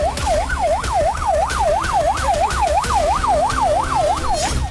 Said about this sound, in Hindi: सायरन की तेज आवाजें आ रही हैं।